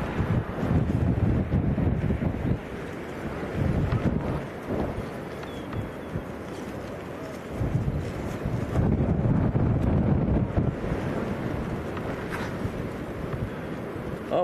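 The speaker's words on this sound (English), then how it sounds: "Goodness me, it's really punchy, is the wind." Strong gusting wind at Leeds Bradford Airport, around 40 mph, roaring and buffeting the microphone in surges that ease briefly and build again, loud and continuous with no talking.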